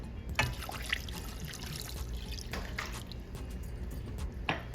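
Water trickles and pours steadily into a pot for candied apple syrup, with splashy dribbling and a few louder drips throughout.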